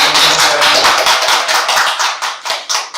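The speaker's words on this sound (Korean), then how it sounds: "모두 축하의 박수 부탁드립니다" A room of people at a school signing ceremony for a partnership agreement breaks into applause, a dense burst of clapping that starts loud and tapers off in fading waves, with no talk over it.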